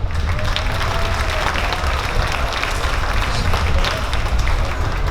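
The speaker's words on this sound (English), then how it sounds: "Round of applause for our guest singer" An audience in a West Java traditional music setting gives a sustained round of applause for a guest singer. The dense, steady clapping stays loud and even throughout, with crowd noise mixed in.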